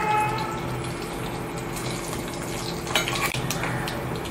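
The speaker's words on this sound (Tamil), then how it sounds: "கடுகு நல்லா பொரிஞ்சிருச்சு." Mustard seeds crackle in hot oil in a pan while tempering mor kulambu: a steady close sizzle with a burst of sharp pops partway through.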